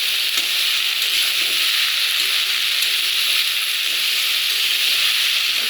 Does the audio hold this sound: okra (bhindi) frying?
yes